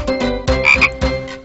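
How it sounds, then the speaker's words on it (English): A frog croaks loudly and close by in four rhythmic, raspy bursts, with nothing else audible. "A frog says ribbit and says it loud."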